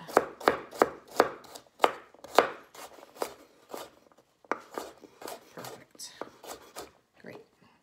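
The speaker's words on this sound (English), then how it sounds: "So I'm just going to give this a chop." A knife chops carrots and onions on a board: a quick, steady run of crisp, close strokes that then turns slower and more uneven.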